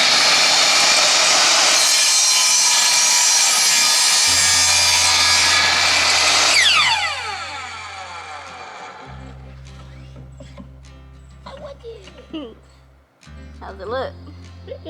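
Hand saw cutting through wood with a steady rasping stroke, loud and close for about seven seconds, then stopping as a low hum and faint knocks and scrapes follow.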